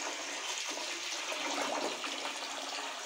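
Water pours steadily over rice being set to soak overnight, a continuous close rushing splash with no talking.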